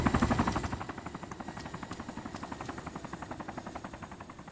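A Mi-8 helicopter flying low overhead in the DayZ video game, steady rapid rotor thumping over a deep engine drone, loud at first and easing slightly as it continues.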